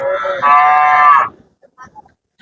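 A cow at the Hazratpur cattle market gives one loud, close moo lasting about a second, followed by a few faint scattered sounds and quiet.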